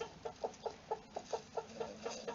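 Rooster and hens in a new chicken run, a rapid series of about a dozen clucks in steady rhythm, fairly faint and a short distance off.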